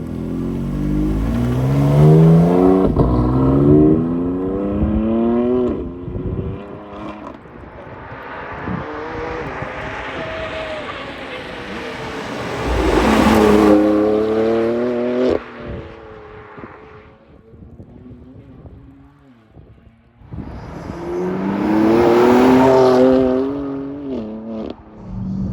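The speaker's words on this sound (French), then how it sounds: "ce que je vous propose, c'est de démarrer la voiture et d'aller faire un petit tour" A BMW M4 with a Clubsport tuning package revs up loudly, its engine note climbing and falling through several gear changes, then rising again in another hard acceleration as the car drives off.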